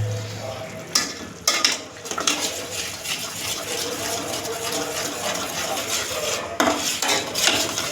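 Chicken being roasted and stirred in a pan, with a sizzle under clattering scrapes and knocks of a utensil against metal, close and busy throughout with no talk.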